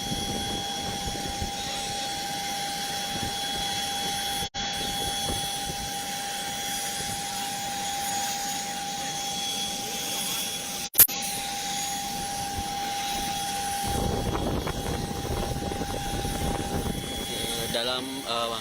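An aircraft engine runs in a steady, droning hum throughout the evacuation of the Jambi police chief. Voices talk over it, with a brief sharp knock midway.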